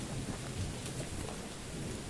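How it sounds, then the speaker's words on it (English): Steady video game rain in Choo Choo Charles hisses over a low rumbling background, a dense constant patter with faint distant thunder-like booms and no voices. "Is that the rain?"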